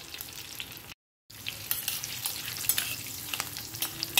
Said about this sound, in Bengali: এই ফোড়নটা যখন ভাজা হয়ে আসবে